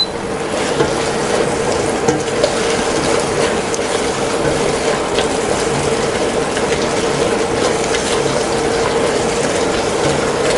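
Ginger and garlic cooking in a pan for a sauce, giving a steady, fairly loud broadband sizzle with faint clicking and rattling that carries on without a break and without voices.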